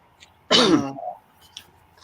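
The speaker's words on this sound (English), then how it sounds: "antibiotics is like making me cough" A single harsh, throaty cough bursts out close up, followed by a brief rasp and then quiet.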